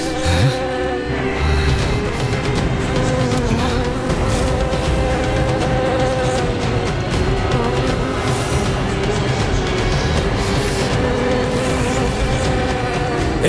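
Countless insects hum together in a thick, unbroken buzz, steady and close, with layered wavering tones that hold at a constant loudness throughout.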